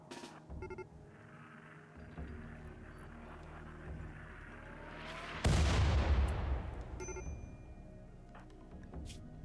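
Mortar fire in RimWorld: scattered distant thumps under a low background hum, then one loud booming impact with a long rushing decay, followed by quieter rumbling.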